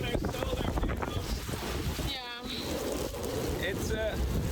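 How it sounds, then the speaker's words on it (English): Strong wind gusting at up to 38 knots buffets a sailboat, roaring hard across the microphone with rushing noise throughout, while short squeaks and rattles from the rigging sound over it. "pretty windy."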